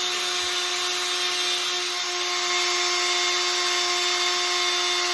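A power sander runs at low speed on a helmet visor during wet sanding, giving a steady, even whine with a constant tonal hum and no pauses.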